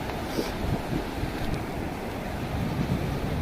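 Sea waves break and wash in along a shoreline where people fish, a loud, steady surf roar mixed with wind buffeting the microphone.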